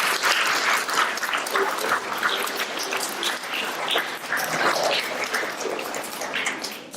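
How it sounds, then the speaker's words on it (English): Audience applause welcoming a guest speaker at an event in Montpelier, Vermont: dense, steady clapping from a crowd sustained at high level throughout, with faint voices mixed in. "If you can all give him a nice clap and a nice warm welcome"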